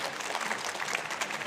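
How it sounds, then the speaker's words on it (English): Audience applause at a Comic Con panel in Los Angeles, a steady wash of clapping from a crowd, moderately distant and brief. "Can we have a round of applause for this first part of the panel?"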